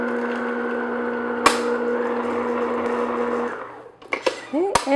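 An electric mixer hums steadily, beating an egg into thick pumpkin cheesecake batter, with a sharp knock partway through; the motor cuts off and a voice speaks over a few clatters at the end.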